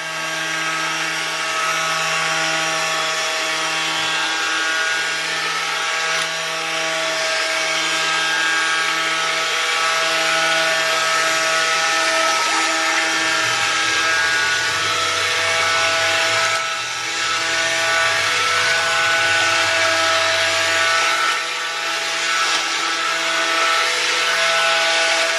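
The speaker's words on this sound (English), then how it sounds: "So let's get our stick blender in." A stick blender's loud, steady motor whine runs continuously, with the pitch dipping lower midway as the blade churns through thick homemade liquid laundry detergent.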